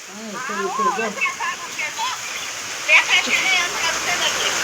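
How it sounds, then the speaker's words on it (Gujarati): Steady rain pours down during a Navratri night, a broad continuous hiss running throughout beneath people talking nearby. "વરસાદ શરૂ છે ને"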